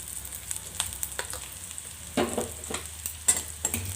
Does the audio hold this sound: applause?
no